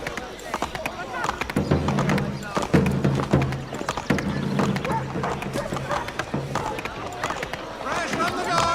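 Rhythmic clip-clop of galloping horse hooves in Assassin's Creed 3 runs throughout, mixed with game sound effects and busy background noise under ongoing talk.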